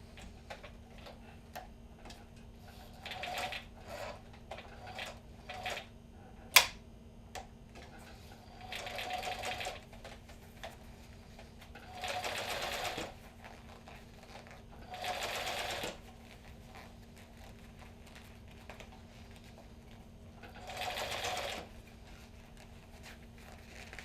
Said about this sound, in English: This sewing machine is 1967 or 1968